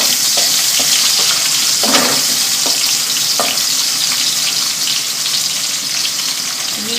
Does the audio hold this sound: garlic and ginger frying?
yes